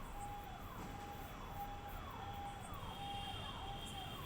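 A faint ambulance siren wails in the distance, heard from a rooftop at night, its rising and falling tone repeating over a steady wash of background noise.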